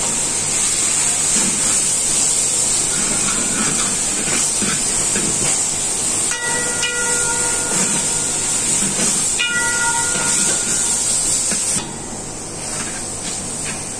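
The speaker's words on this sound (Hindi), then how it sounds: "वो तो हम इसको सौते कर लेंगे बथुए को।" Bathua greens sauté in a hot pan for Mewadi bathua bajra khichdi, producing a loud, steady sizzling hiss throughout with a few faint tonal clinks partway through.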